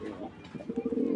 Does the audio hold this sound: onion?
no